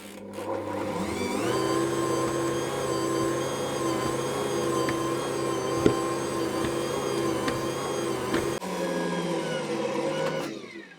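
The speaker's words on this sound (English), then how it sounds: "now I'm going to mix that continuously, kneading it for 15 to 20 minutes until it's very elastic and stretchy" An Ankarsrum mixer kneads cinnamon roll focaccia dough, running as a steady, loud mid-pitched motor drone with a few faint knocks, briefly shifting tone near the end before stopping.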